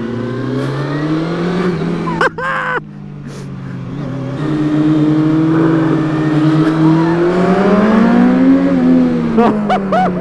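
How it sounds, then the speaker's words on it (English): A car engine drones and revs up steadily, rising in pitch as it approaches on a hairpin bend, loud and close, with brief squeaks and short bursts of voices. "And a car coming."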